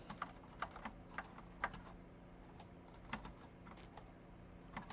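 Computer keyboard typing during a coding session: quiet, irregular clicks and taps at close range, in short bursts separated by pauses, with no speech.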